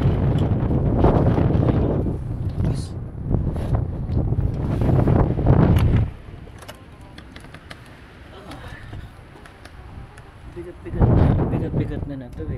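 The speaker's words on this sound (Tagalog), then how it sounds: "Medyo malakas kasi yung hangin na yan" Strong gusts of wind buffet the microphone in a loud, roaring rumble that eases halfway through and then surges back near the end, with a voice talking faintly underneath.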